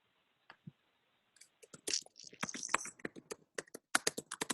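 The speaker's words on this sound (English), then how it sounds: "You can hear her typing." Quiet, rapid clicking of keys on a computer keyboard comes in irregular bursts after a brief pause, close but faint.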